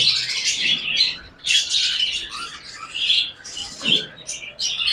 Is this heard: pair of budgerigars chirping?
yes